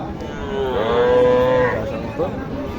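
A cow gives one long, loud moo close by at a rural cattle market in Naogaon, Bangladesh, followed by a short second call amid crowd murmur.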